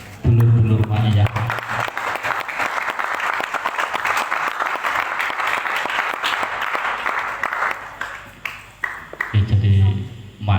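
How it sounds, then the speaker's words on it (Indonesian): Loud, continuous applause from an audience at a Maiyah gathering marking a first anniversary, filling most of the stretch, with a voice speaking briefly before it starts and again as it ends. "hanya bentuk tepuk tangan untuk dulur-dulur Ma'iyah"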